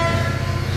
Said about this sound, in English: Wow, it's a freight train.